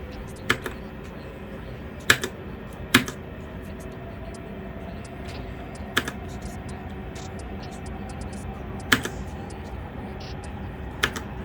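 A Royal Kludge RK71 wireless mechanical keyboard with linear switches clicks in sparse, separate key presses, faint and close over a steady low hum, with a few sharper strikes standing out.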